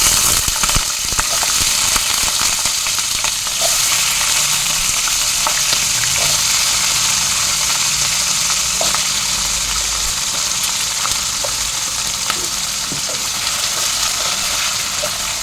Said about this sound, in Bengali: এবার আলুটা একটু ভেজে নেব